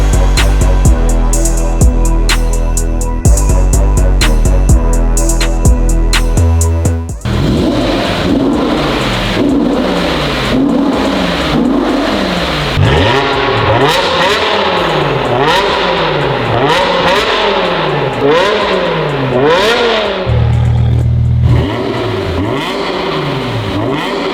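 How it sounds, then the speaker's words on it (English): A BMW M5 Touring's V10 engine barks through a newly fabricated valved exhaust, loud and close, first idling with sharp blips, then repeatedly revving up and dropping in rising and falling wails with brief pauses, no talking. "let's drop it down and listen to this V10"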